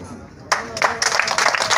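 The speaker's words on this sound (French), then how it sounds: "On applaudit très fort, mesdames, messieurs." A brief burst of clapping breaks out after a quiet moment at an outdoor ceremony handing a vehicle to customary chiefs, and continues steadily, with a voice speaking in the background.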